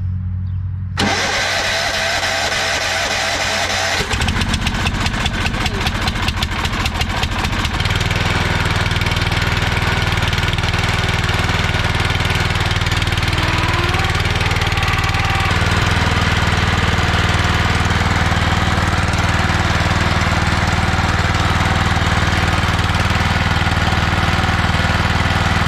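A small engine fitted with a Tecumseh carburetor and plastic bowl starts after a brief pause and runs steadily, a loud continuous drone with a rough, pulsing patch early on before settling into an even idle, no voices.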